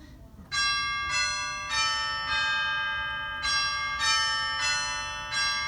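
Bright chime tones from a pipe organ's chimes stop, played from the great manual, ring out one after another in a slow melodic sequence, each note sustaining and decaying as the next strikes.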